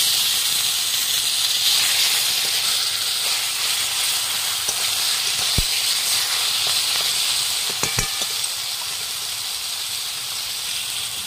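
Taro leaves (kochu shak) drop into a hot pan already holding dried red chilli and whole cumin, giving a loud, steady hiss of steam and sizzle throughout, with a few sharp crackles and pops partway through.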